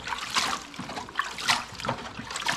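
Warm water splashes and trickles unevenly as fresh garden lettuce is rinsed with a little salt, close and moderately loud with irregular surges.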